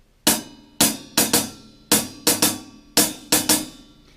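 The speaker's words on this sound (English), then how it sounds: "you'll be familiar with the jazz ride pattern." Jazz ride pattern on a drum kit, with crisp cymbal strokes in the swung ding, ding-a-ding rhythm, each hit ringing briefly, played alone and fairly close.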